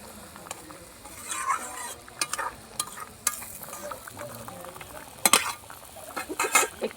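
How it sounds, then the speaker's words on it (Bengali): Sarputi fish curry with mustard paste and whole green chillies simmers in a pan, its bubbling gravy giving a soft patter with sharp utensil clinks and stirring scrapes. "এবার ঝোলটা একটু ফুটিয়ে নেব।"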